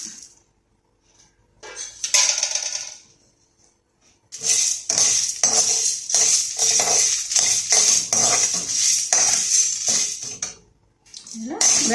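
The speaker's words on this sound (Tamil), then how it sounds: "இந்த வறுக்கக்கூடிய ஜாமான்கள் எல்லாத்தையும் போட்டு நம்ம வறுத்துக்கலாம்" Spices and ingredients being dry-roasted and stirred in a pan for curry leaf podi rice, with repeated scraping and clinking of a spoon against the metal pan in rapid bursts, close and fairly loud, with short pauses between bouts.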